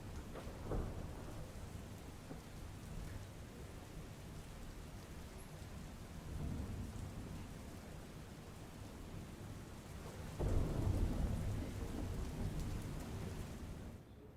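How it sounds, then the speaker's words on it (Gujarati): Heavy rain pours steadily in Mandvi, Kutch, while thunder rumbles, with a louder, closer crack and roll near the end. "કચ્છના માંડવી તેમજ તાલુકાના ગ્રામ્ય વિસ્તારોની અંદર વરસાદ વરસ્યો છે"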